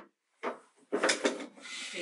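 A wooden drawer on a traditional Japanese hakozen meal box slides open or shut in a few short woody scrapes and knocks, close by, with a brief moment of voice nearby.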